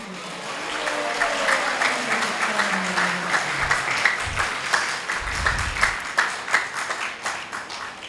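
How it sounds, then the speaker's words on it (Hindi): An audience at a Hindi devotional talk on the Chaitanya Bhagavat claps together in a sustained, even patter, with a few louder individual claps standing out near the end. "नित्यानंद का नाम लेके एक बार ताली बजाएंगे"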